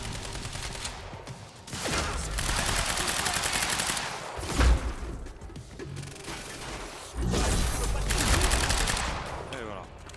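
Shotgun blasts in the video game Quantum Break, loud booming shots followed by bursts of crashing gunfire and heavy impacts, in two dense stretches separated by a brief lull, with a voice now and then.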